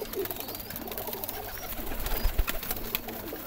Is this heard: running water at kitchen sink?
no